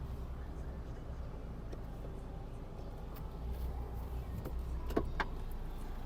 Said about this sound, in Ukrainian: Склопідйомники у нас працюють